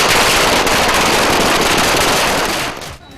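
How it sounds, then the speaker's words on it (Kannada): Firecrackers burst in a dense, loud, continuous crackling barrage during a Congress party victory procession through the streets of Karwar, then fade sharply in the final moment. "ಬೀದಿ ಬೀದಿಯಾಗೂ ಪಟಾಕಿ ಹೊಡೆದು ಜೈಕಾರ ಕೂಗಿದ್ರು."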